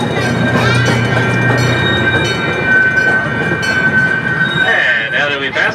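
Small zoo train rolling past the front gate at Santa Barbara Zoo, a steady close rumble of wheels and rail noise with a sustained high wheel squeal and a rising screech near the end, no speech.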